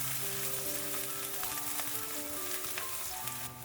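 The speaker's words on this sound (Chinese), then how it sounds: "油热之后将切好的葱花、蒜末倒进来，翻炒均匀，" Chopped scallions and minced garlic stir-fried in hot cooking oil in a wok give a continuous close sizzle and crackle, with faint scraping of the stirring utensil and a few clinks, no voices.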